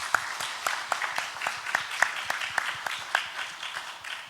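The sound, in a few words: congregation applause in church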